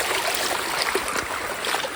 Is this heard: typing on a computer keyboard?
no